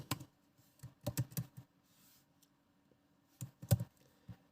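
Short bursts of typing on a computer keyboard, a few quick clusters of clicks separated by pauses, close and crisp in a quiet room with no talking.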